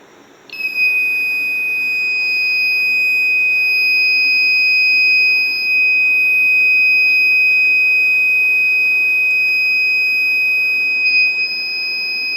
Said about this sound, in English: The buzzer will blow until the heat sensor cools down.